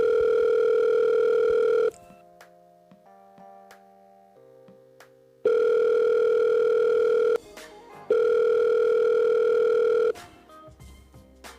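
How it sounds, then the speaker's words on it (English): A telephone call that goes unanswered, steady ringback tones in long bursts separated by quieter stretches of dialing beeps and line noise, with no talk. "AB, can you get those guys on the phone"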